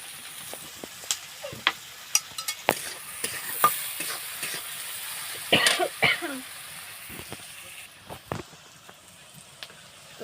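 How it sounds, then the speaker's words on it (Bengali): Chilli, onion and garlic stirred and fried in leftover fish-frying oil, with scattered spoon scrapes and taps against the pan over a low steady sizzle, a louder cluster of clatter in the middle. "নাড়াচাড়া করে কিন্তু একটু ভেজে নিচ্ছি।"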